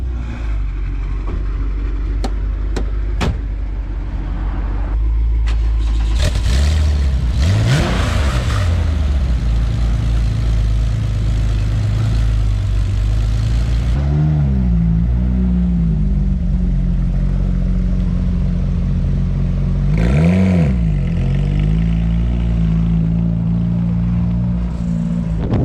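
Cars at a European car meet at a shop grand opening, a BMW M6 among them, rev loudly and pull away one after another, engines rising and falling in several close, rumbling surges over steady idling.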